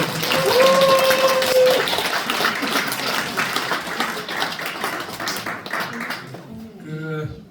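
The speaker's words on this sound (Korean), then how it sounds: "큰 박수로 맞이해 주세요." Audience applause fills a room at a political party members' education event, steady and fairly loud, fading out near the end as a voice begins.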